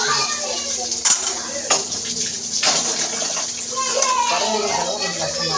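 Dishes being washed by hand with water: pots and utensils clatter and scrape under running, splashing water, with a few sharp knocks and someone talking throughout.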